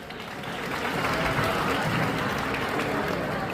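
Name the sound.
applause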